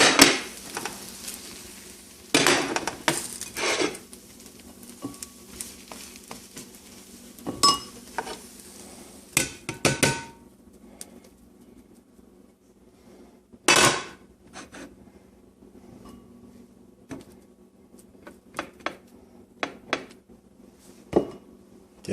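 A plate and pan are handled while serving scrambled eggs, with scattered clinks, scrapes and clatters of cookware and utensils between quiet pauses, close by.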